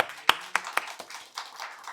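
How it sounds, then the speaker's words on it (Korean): Scattered hand claps at a church service ring out in an uneven, sparse burst, a handful of sharp slaps close by rather than a full crowd's roar. "하나님께 영광의 박수를 드리시 바랍니다"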